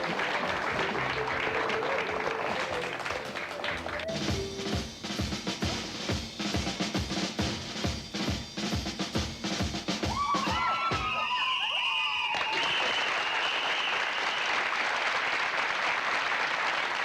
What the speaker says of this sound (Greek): Χειροκροτήστε τον.